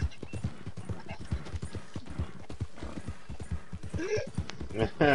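Horse hooves clip-clop steadily in Red Dead with a horse neighing near the end, loud and close, while people talk over the hoofbeats.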